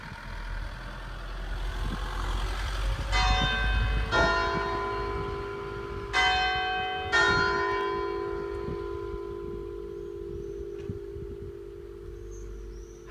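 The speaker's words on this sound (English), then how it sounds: "You can see the bell tower." Church bell in a Normandy bell tower rings several times at steady intervals, each strike clear and moderately loud with a lingering ring, over outdoor ambience and a low idling engine hum.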